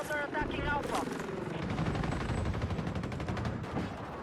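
Rapid bursts of anti-air rifle fire in a video game crackle steadily over a dense, continuous roar of battle, with speech-like sounds mixed in.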